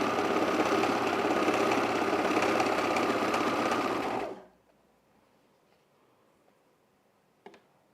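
A Janome computerized sewing machine stitches fabric with a fast, even mechanical whir close by, running for about four seconds before stopping abruptly, followed by near silence and a faint click.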